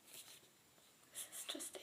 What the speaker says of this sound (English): let me just go ahead and spray this